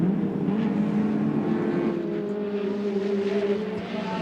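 A 1991 Nissan touring car racing at Oran Park, its engine holding a steady droning roar at moderate distance, fading slightly toward the end with no voices over it.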